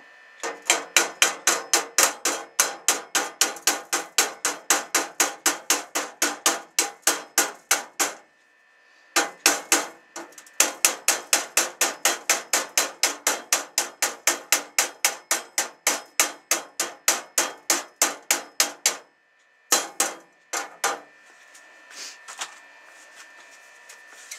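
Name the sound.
hammer chipping slag off a weld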